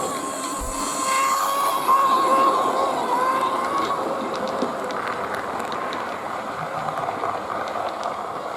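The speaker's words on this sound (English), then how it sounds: "despite its Portescap gearbox, just listen to the racket. They really do whine, some of them." A model train motor with a Portescap gearbox runs with a continuous mechanical whine and buzzing racket, steady and fairly close throughout, with a faint higher tone drifting in the first few seconds.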